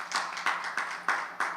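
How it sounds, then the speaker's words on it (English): A small audience at an evening community meeting claps in a steady rhythm to welcome a senior advisor. The claps are sharp, evenly spaced and fairly close, with no talking over them. "Let's clap her up as she comes."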